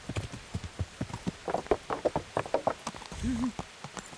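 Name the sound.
horse hooves clip-clopping in a video game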